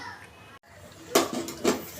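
A metal lid set on a pot of fish curry with pointed gourd and potato, giving two sharp clanks close by, with faint voices of children in the background.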